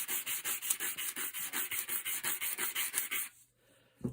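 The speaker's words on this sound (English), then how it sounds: "You can use a little sanding block" Steady back-and-forth rasping strokes of a small sanding block on a gun barrel, about five per second, close and loud, stopping abruptly near the end.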